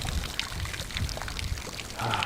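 Brown wine pours steadily into sea water in the Bahamas, a continuous splashing trickle close by that lasts the whole moment.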